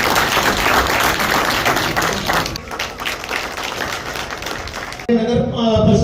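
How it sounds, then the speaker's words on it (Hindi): Applause from a crowd welcoming a speaker at a public meeting between police and residents, a steady dense clatter of hands lasting several seconds before a voice cuts in over a loudspeaker. "जोरदार तालियों से उनका स्वागत करें।"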